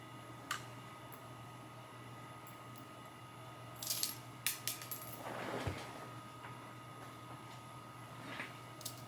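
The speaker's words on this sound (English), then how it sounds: "now you're gonna have to remove your pins" Steel sewing pins pulled from a fleece sherpa blanket and dropped one by one, giving scattered light metallic clinks and ticks with a brief rustle of fabric midway over a steady quiet room hum.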